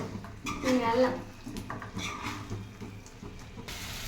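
A spoon stirs masala with ginger paste in a home kitchen pot, producing scraping and clinking metal knocks at an irregular pace, with a voice talking over it.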